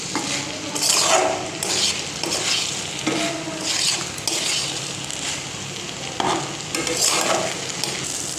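A spoon scrapes and stirs spiced rice in a pot, with repeated scraping strokes and light clinks against the metal, steady and close.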